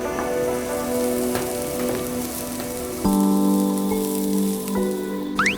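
A beef cut sizzles on a yakiniku grill at an Osaka omakase spot, a steady close crackling hiss like light rain that swells slightly partway through. A faint tonal background runs underneath, with no talking.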